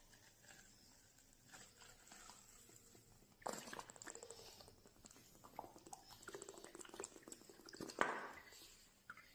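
Liquid is poured into a glass in a chemistry demonstration, a faint trickling and splashing that starts partway through, with small clinks and knocks around it.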